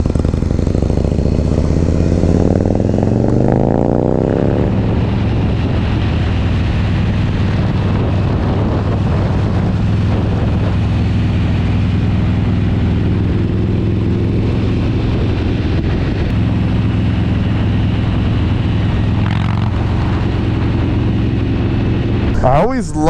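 A 2024 Harley-Davidson Low Rider ST pulls away, its engine note rising through gear changes and then a steady loud drone, heard with heavy wind rumble on the microphone.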